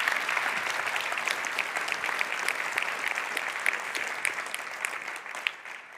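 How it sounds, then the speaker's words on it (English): Warm applause from an audience greeting a speaker at a climate talk, a steady dense wash of clapping that holds for the full stretch. "you're going to have a warm applause at the start as well"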